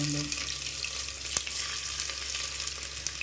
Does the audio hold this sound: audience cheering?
no